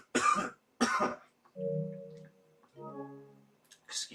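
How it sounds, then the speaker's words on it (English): Two sharp coughs at close range, loud and in quick succession, followed by quieter throat noises and a brief hum, with no speech. "my coughing wasn't too loud"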